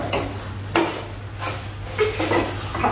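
Pasta being stirred and sautéed in sauce in a pan, with a few sharp clinks of a spoon against the metal and soft scraping over a low steady hum, close by, with no speech.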